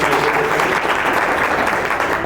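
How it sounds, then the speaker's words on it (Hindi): Dense applause from an audience at a village inauguration of smart classrooms and solar lights, loud and steady with many hands clapping at once. "इनके लिए एक बार जोरदार तालियां बजा करते हैं।"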